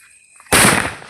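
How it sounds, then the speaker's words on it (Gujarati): A mirchi bomb firecracker goes off during a family Diwali celebration, one sudden, very loud sharp bang close by that breaks a near-silence and then fades quickly. "મિર્ચી બોમ્બનો ટ્રાય મારીએ"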